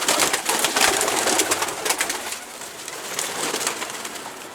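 Pigeons flutter and call as they are let loose from a rooftop loft, a dense, bright flurry of wingbeats and coos filling the air, fairly loud and steady throughout.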